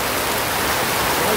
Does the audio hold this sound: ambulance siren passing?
no